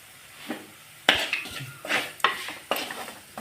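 Spice powders fry in a pan for a Kerala fish curry while a spoon stirs and scrapes against the metal, giving several sharp clinks and knocks over a faint sizzle, close by with no talking.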